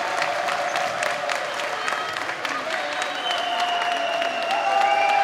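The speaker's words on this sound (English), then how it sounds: "Capacity crowd rising to their feet" A capacity crowd at an NCAA Division III volleyball championship match between Webster and Elmhurst cheers and applauds steadily and loudly, with a student section in the stands and continuous clapping and shouting throughout.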